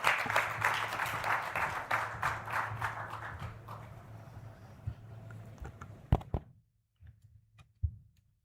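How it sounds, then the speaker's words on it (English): Audience applause at a formal conference valedictory session, a dense patter of many hands clapping that gradually thins out and fades over several seconds, ending in a few scattered claps and near silence. "A huge round of applause for Dr."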